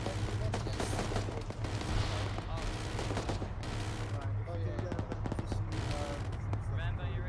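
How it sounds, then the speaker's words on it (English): Gunfire crackles in repeated bursts during a ranger field exercise on a hillside, with sharp shots spread through the clip over a steady low hum and radio-style voices talking. "I see shots fired bearing 340."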